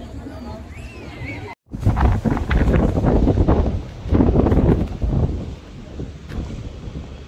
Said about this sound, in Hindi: तो वहां से निकलने के बाद में बहुत तेज हवा हो गई है